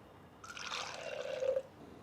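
A short splash as a little water is poured into ground masala in a cooking pan, about one second of trickling liquid, close and moderately quiet.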